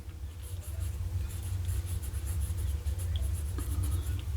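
A TWSBI Eco fountain pen with a broad nib scratches across paper in quick, light, irregular strokes, close and quiet over a low steady background hum.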